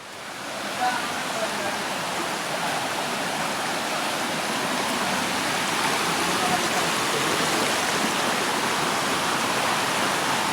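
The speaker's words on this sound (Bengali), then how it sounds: "মূলত হচ্ছে এই যে পানিটা যাচ্ছে এখান দিয়ে" Water rushes steadily in a continuous, fairly loud wash, like a stream flowing close by on the Sonaichhari trail in Feni, with no pauses throughout.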